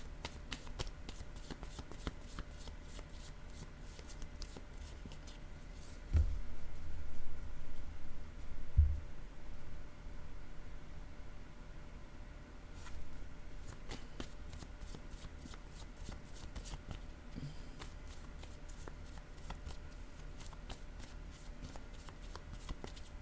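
Playing cards being shuffled and handled in a soft, quiet rustling stream, with a louder flurry of card riffling partway through and rapid light flicks near the end, no voices.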